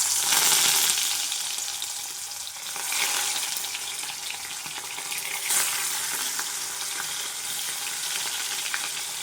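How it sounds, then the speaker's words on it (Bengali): Native koi fish frying in hot white oil in a wok, a steady, close, bright sizzle throughout that swells briefly a few times. "তেল গরম হয়ে গেছে, কড়াই মাছ দিলাম।"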